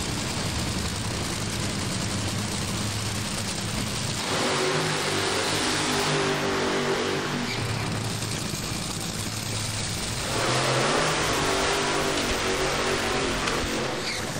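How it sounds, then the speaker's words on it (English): Drag racing engines roar at the 2020 Winternationals, a loud continuous blast with two surging waves of revving, each building and cutting off, with no talk over it. "Let's sit back and listen to these engines finally go to work for 2020."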